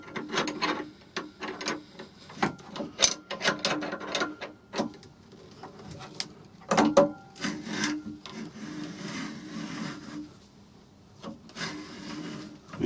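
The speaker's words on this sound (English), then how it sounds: "I'm threading into oak with a 19mm drill bit spanner" A threaded live centre being wound into oak with a 19mm drill bit spanner, giving a close series of irregular wooden creaks, scrapes and ratcheting clicks that keep going throughout with no talk.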